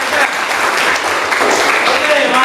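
Loud, close hand clapping from a group of students in a classroom, dense and continuous with voices mixing in over it.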